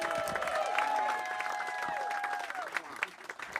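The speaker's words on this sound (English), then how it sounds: "Start clapping right now for OBN, everybody." A comedy show audience applauds and cheers steadily, a dense wash of clapping that tapers off toward the end.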